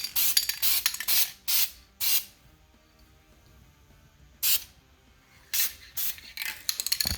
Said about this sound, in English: First coat of paint is on, lay it on nice and light